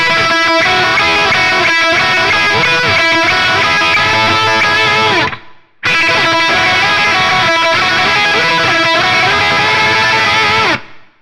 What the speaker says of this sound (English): Again, if you don't play it with the tremolo picking technique, it sounds like this.